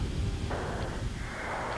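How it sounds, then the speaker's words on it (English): Secondary explosions at a bombed fuel depot in Gulf War TV news footage: a muffled, boomy rumble with a sudden burst around the midpoint, crackling on through the rest of the short stretch. "And as he comes back, you see the secondary explosions there."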